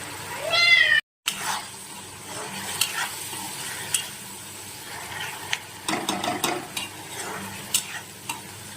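Onions added to a pan with whole spices and chili paste, a close frying sizzle with clattering stirring and scraping in short bursts, and a cat meowing briefly near the start.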